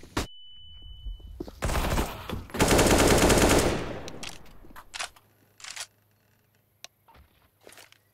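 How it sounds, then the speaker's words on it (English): Flashbang grenade going off in a video game: a sharp crack and then a long, loud burst of noise lasting over a second, followed by scattered clicks and pops and a steady low hum. "Flashbang."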